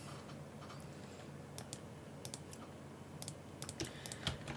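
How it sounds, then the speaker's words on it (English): Rapid computer mouse and keyboard clicks while radar imagery is updated during live hurricane coverage, light sharp ticks in irregular bursts, faint and close over a low steady background hum. "You'll hear me doing a lot of clicking here"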